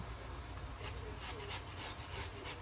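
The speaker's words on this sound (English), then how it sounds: "Going to go in with our ginger. Get your grater out." Fresh ginger rubbed against a hand grater, a soft repeated scraping rasp in short strokes, fairly quiet and close, with low background hum.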